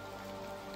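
Rain falls steadily on surfaces during a jungle safari in Jim Corbett National Park, an even, close hiss with no voices.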